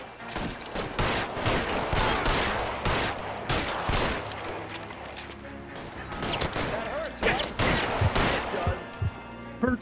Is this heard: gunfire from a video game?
yes